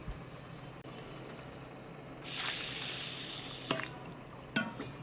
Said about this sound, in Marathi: आता हे बघा असं चोळून आपल्याला स्वच्छ 3 वेळा धुवून घ्यायचे आहे